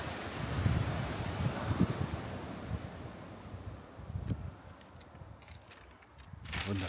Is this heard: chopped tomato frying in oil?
no